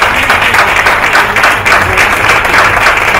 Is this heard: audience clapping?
yes